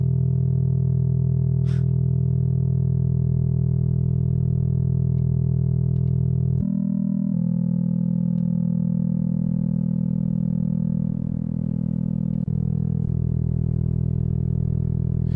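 A sustained, buzzy Bitwig synthesizer drone with noise modulation holds steady and shifts abruptly between a few pitches, with a rough, gritty edge and no voices.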